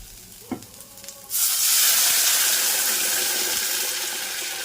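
Water poured into a hot pan of Bambino vermicelli upma bursts into a loud, steady hiss and sizzle after a quiet second of light kitchen sounds, then slowly eases off.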